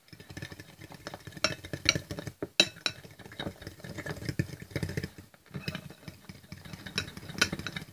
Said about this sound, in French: je vais encore remuer parce que là, ça commence à faire une slime